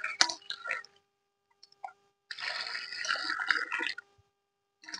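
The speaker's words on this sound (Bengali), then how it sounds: "আলুগুলো ধুয়ে নিচ্ছি।" Peeled potatoes are swished and rubbed by hand in a bucket of water, close up, with splashing and dripping that come in short bursts and in one longer stretch of sloshing, with no one talking.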